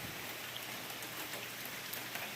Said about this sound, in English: It's raining, and it looks like it's gonna be raining for the next few hours.